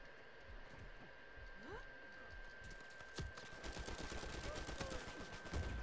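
Gunfire in the video game Uncharted 4 comes in a few sharp shots and a short burst, fairly quiet, against a soft game background with brief talk.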